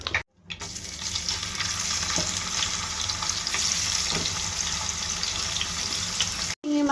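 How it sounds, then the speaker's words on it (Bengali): Shrimp frying in oil in a frying pan, a steady close sizzle and crackle with occasional stirring clinks, running continuously with a brief break near the start. "চিংড়ি মাছগুলো ভাজা গেছে"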